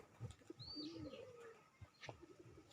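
Soft cooing of pigeons close by, a few low warbling calls with light rustling and faint chirps in a quiet setting.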